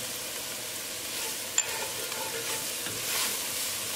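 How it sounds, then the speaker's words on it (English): Spices frying in a hot tadka for beef rice, a steady close sizzle and hiss with light stirring scrapes and one brief click, no talking. "Cook spices along with tadka for 1 minute."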